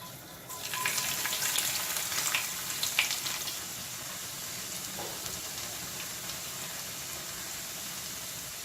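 Oil heating in a kadhai (wok) over a high flame sends out a continuous, even frying hiss that swells slightly at the start and then holds steady, close by and with no talking.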